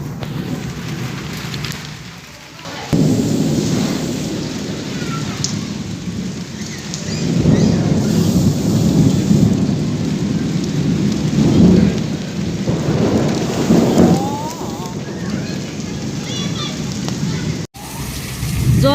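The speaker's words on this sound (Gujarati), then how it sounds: "વરસાદની બહાટી બોલે" Loud, dense rainfall with repeated deep thunder rumbles rolling through, continuous and close; a voice may be faintly present under the downpour.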